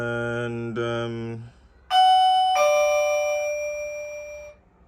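A Dunedin Railways train announcement chime: two bright bell-like ding-dong tones ringing out and decaying, preceded by a short held musical tone, clear and alone.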